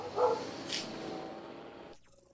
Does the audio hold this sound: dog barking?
yes